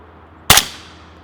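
A single suppressed gunshot firing subsonic ammunition through a Yankee Hill suppressor, a sharp, fairly loud crack with a short decaying tail, heard alone outdoors.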